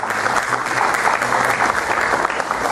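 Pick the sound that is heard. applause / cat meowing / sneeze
applause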